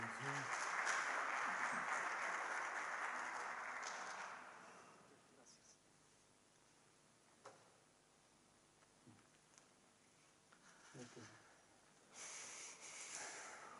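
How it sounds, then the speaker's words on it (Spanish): Audience at a talk on threat intelligence and compromise indicators applauds to welcome a speaker, a moderate burst lasting about four seconds before dying away, with a brief return of clapping near the end. "Entonces, por favor, con un aplauso recibimos a César Cuenca."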